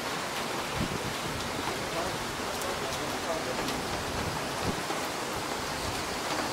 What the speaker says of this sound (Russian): Попали просто под дождь